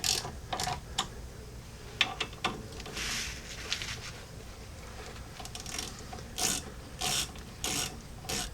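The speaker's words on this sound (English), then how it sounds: "now I'll just evenly tighten up these two bolts and get this caliper secure" A hand ratchet clicks in short bursts as it tightens brake caliper bolts on a Jeep XJ front brake, close and fairly quiet, with pauses between strokes and no talk.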